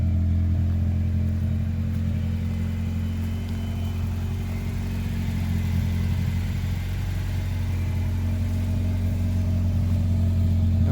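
A Honda car engine with a welded exhaust runs steadily at idle with a deep, even, low rumble, fairly quiet and constant throughout.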